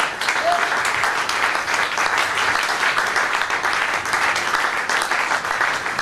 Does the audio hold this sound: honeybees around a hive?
no